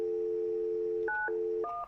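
Telephone keypad dialing tones on a test phone during a call gateway setup: two distinct dual-tone beeps after a steady tone, clear and close, with no talking.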